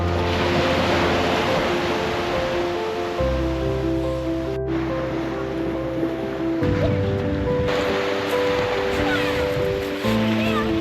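Steady surf washes onto a beach, a broad constant rush of breaking waves with wind buffeting the microphone and low rumbling tones underneath.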